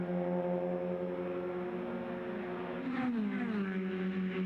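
A Formula Continental race car at the 2013 SCCA Runoffs holds full throttle flat through a kink: a steady, droning engine note heard onboard, with a slight pitch shift partway through and no talk.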